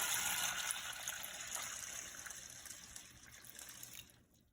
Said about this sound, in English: And then we're going to add in 4 cups of water